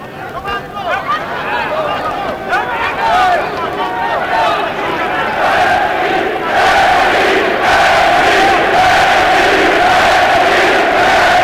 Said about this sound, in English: Crowd trying to get Maske started here